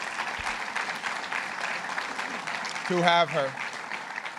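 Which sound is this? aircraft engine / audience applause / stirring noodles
audience applause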